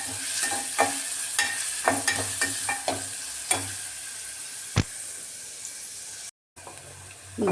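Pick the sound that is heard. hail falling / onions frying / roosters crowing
onions frying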